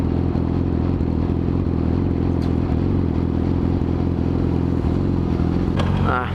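A motorcycle engine drones steadily underneath while riding along, with constant road and wind noise and no obvious revving changes.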